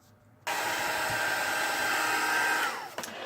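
A heat embossing tool blows hot air over a handmade Easter card, a steady loud whirring hiss that starts abruptly, holds for about two seconds, then cuts off and winds down.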